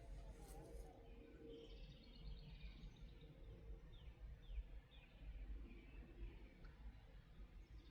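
Birds chirp faintly from a tree, small high calls scattered over a steady low rumble of outdoor background noise.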